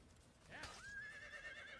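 A horse in a video game gives a brief, faint whinny with a rising then wavering squeal, heard quietly in the background.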